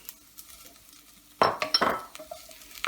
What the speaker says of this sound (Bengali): এখন আমি এর ভিতরে পেঁয়াজ আর ক্যাপসিকাম দিয়ে দিলাম।